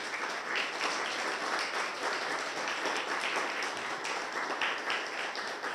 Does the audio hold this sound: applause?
yes